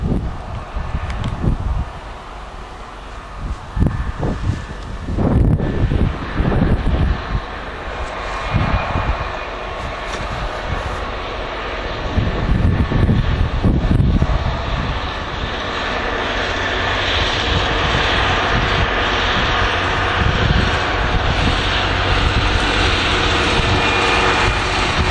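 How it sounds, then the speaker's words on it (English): A freight train passes on railway tracks at a junction, a loud rumbling roar with heavy low-frequency engine drone, gusty swells and rattling bursts that build into a sustained, steady rush, with no talking. "they should allow this freight to come down the tracks"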